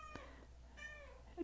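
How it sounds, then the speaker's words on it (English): A pet cat meows twice, close and fairly quiet indoors, the second call longer and rising, with a soft faint sound just after. "Apparently my little kitty Toddy would like to say hello."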